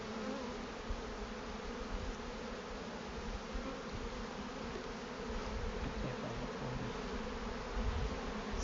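Honey bees buzzing steadily throughout a hive inspection, a dense, continuous hum with no pauses, close and even in level.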